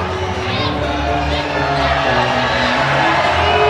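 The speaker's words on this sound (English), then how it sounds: "That got the reaction from the crowd." A basketball arena crowd at a women's game between Ball State and BYU roars steadily in reaction to a replay on the big screen, with loud sustained cheering and shouts throughout.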